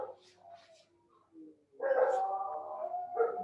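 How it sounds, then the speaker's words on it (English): A neighbour's dog barks and bays from a distance, a few faint yips first and then a longer, louder howling bark, with quiet gaps between. "that's my neighbour's dog starting to bark"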